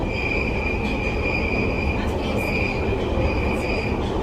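A train passing in London, a steady loud rumble of rolling wheels with high, sustained squealing from the rails, continuous from start to finish.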